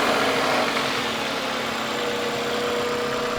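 A Toyota car engine starts and idles with a steady low rumble and light vibration, running evenly throughout with no rattle and no voices.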